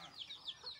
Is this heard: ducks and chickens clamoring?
yes